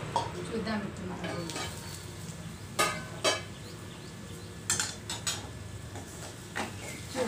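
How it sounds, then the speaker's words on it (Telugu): Onions sizzle softly in a pan for bitter gourd masala curry, a faint, even frying hiss with occasional scraping knocks from stirring. "చూడండి, ఆల్మోస్ట్ ఉల్లిపాయలు వేగిపోయాయి"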